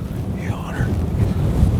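Gusty wind blows outdoors across a field plot during a deer hunt, a steady low rumble with buffeting bursts on the microphone and no speech.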